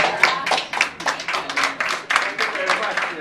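An audience at a press conference claps together in a quick, loud burst of hand claps that runs without a break for a few seconds.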